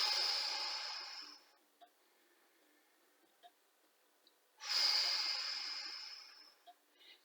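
Two long, deep breaths during a Hatha yoga Five Tibetans exercise, each a loud, airy rush lasting over a second, separated by a few seconds of quiet with small faint clicks.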